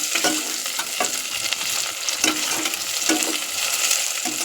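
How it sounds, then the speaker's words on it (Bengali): Chopped tomatoes frying with onions in a pan, a loud continuous sizzle broken by repeated stirring scrapes at a steady rhythm, close up with no talk. "কেটে রাখা টমেটোগুলো দিয়ে দিয়েছি আমি, ভালো করে ভেজে নিয়ে"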